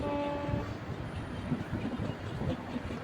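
Steady rumbling and rhythmic clatter of a moving Surat–Mahuva passenger train, heard from inside the front carriage, with a brief tonal whine at the start.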